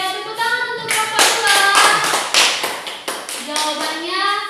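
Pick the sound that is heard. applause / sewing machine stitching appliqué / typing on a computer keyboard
applause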